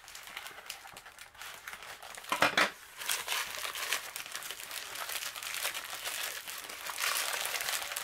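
Close crinkling and crumpling of plastic wrapping as a diamond painting canvas is unwrapped, irregular rustling bursts throughout with a sharper crackle in the middle, no voices.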